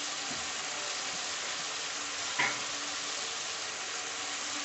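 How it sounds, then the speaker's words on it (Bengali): Ground cumin and chili paste hit hot oil in a pan, giving a steady, even sizzle and hiss throughout, with one brief stir or clink partway through. "এবার আমি এই তেলের মধ্যে দিয়ে দেব বেটে রাখা জিরে আর বেটে রাখা লঙ্কা।"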